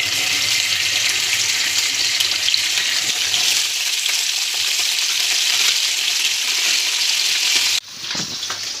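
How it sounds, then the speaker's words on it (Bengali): Small tengra fish fry in hot white oil for a Bengali curry with potato and tomato, giving a steady, dense sizzle that stays close and even, then drops abruptly near the end. "মাছগুলো প্রায় ভাজা হয়ে গেছে"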